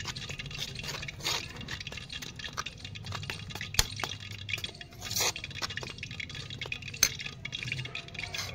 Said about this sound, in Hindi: हुण थोड़ा थोड़ा पानी पा के जिहड़ा आपां घोल तैयार करांगे